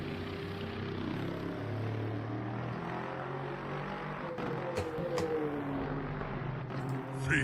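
An LMP2 prototype race car engine drones in a racing video game, a steady low hum with rising pitch that passes close by, mixed with faint game ambience.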